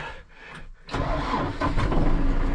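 A HATTAT T4110 tractor's Perkins diesel engine cranks briefly and catches on the first try, settling into a steady close-up rumble.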